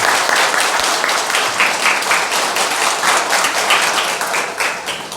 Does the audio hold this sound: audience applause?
yes